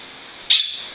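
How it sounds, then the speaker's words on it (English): A pet bird gives a single sharp, shrill squawk that trails off quickly, close by, over a faint steady hiss of room background. "is our little bird Apple"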